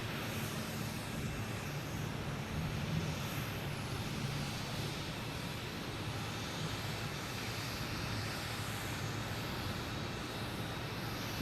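An airplane turns overhead at Boston Logan Airport, its engines a broad, steady roar filling the air, continuous and fairly loud without break.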